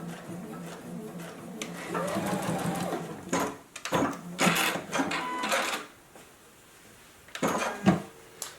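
A JUKI sewing machine stitches an embroidered fabric face mask in bursts of fast mechanical whirring and clatter, with short pauses and quiet handling clicks between runs, fairly faint and without talk.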